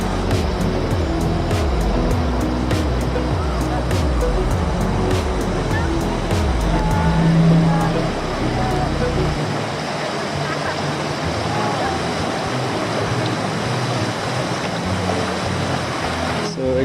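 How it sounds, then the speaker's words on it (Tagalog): Strong river current rushing and churning near Cabongaoan beach in Burgos, Pangasinan, a loud steady broadband wash that continues throughout, with a heavy low rumble for the first half. "The current is strong."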